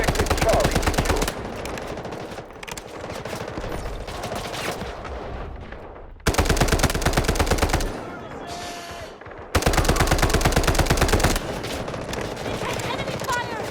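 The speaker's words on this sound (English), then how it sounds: "Enemy fire!" Automatic gunfire in Delta Force during a large 24-versus-24 warfare battle. Loud, rapid machine-gun bursts alternate with stretches of more distant fire, and voices are heard now and then.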